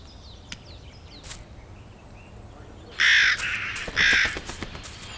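A crow caws twice, loud and harsh, one call about a second after the other. Faint distant bird calls and soft outdoor ambience come before the caws.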